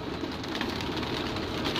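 Pigeons cooing softly over a steady background hiss, the low murmuring calls blending together continuously.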